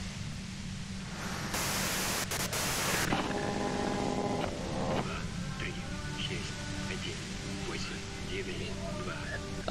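Static hiss in the video game Disco Elysium, a continuous wash of noise with a brief louder burst early on and faint tonal blips, while a person talks over it throughout.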